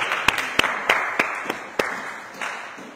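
A church congregation at a worship service claps in a series of sharp, evenly spaced hand claps against a reverberant room, fading toward the end.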